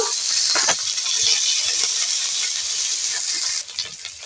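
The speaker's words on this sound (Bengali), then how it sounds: "আমি দিয়ে দেব কাঁচা লঙ্কা, পেঁয়াজ, এটাকেও ভেজে নেব" Steady, loud sizzling of green chilies and onion frying in hot oil, a dense hiss throughout that eases slightly near the end.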